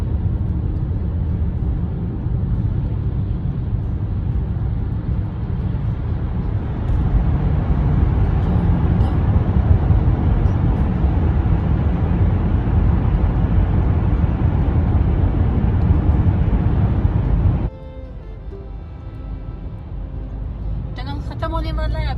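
A car drives through a two-lane road tunnel in slow Pittsburgh traffic, a loud steady low rumble and road roar that drops abruptly near the end as the car nears the exit.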